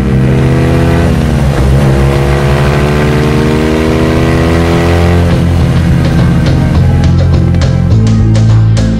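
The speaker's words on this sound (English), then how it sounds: "Tout au loin, Hubert Oriol et sa BMW. La moto numéro 100 fonce vers la victoire." A BMW rally motorcycle, bike number 100, racing flat out: a loud, continuous engine roar with shifting pitch that climbs and surges, close and dominant throughout, with no speech.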